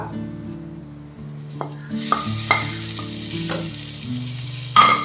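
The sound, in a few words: sautéing tomato in squid masala in a pan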